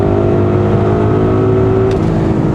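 A loud, close Audi RS Q8 V8 engine in RS mode drones with a deep, throaty exhaust tone, holding steady and briefly rising in pitch near the end.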